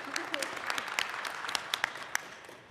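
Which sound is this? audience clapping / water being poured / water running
audience clapping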